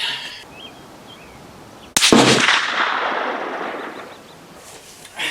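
A single loud rifle shot from a Lencac SC 1903A4 or Noveske AR cracks out at an outdoor shooting range, its sharp blast trailing off into a long fading echo over quiet background.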